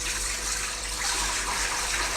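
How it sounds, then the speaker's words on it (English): Running tap water pours steadily over a blender being rinsed at a kitchen sink, a continuous broadband rush with no voices. "Before I pause the recording, I'm going to rinse this thing out."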